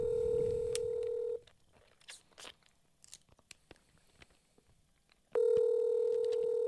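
A telephone's keypad tones and a steady dial tone sound loud and close, with a quiet gap of faint clicks and rustles between two stretches of dial tone.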